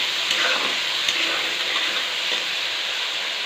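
Onions frying in a pan with salt for chilli chicken, a steady loud sizzle filling the air while a spoon stirs through them, with no talking.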